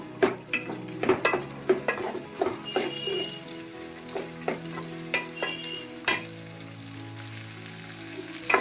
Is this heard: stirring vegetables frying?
yes